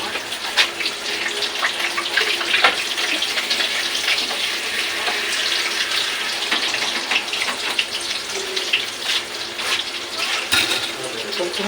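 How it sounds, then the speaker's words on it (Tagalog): Water pours and splashes into a cooking pot for chopsuey, a steady gushing fill like a running tap, close and continuous for the whole stretch. "Lagyan natin ng water."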